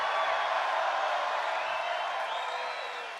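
A record crowd of over 10,000 at a political rally roars and cheers steadily, a dense, sustained wash of voices that fades slightly at the end.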